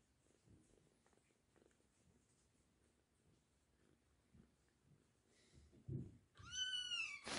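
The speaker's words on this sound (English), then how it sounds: "You're purring and screaming at the same time." A month-old kitten purrs softly and close, and near the end it breaks into several loud, high meows.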